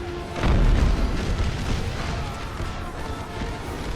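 In an American Civil War video game, a deep boom at the start rolls into a dense, rumbling wash of heavy battle noise, like massed cannon fire heard from a distance.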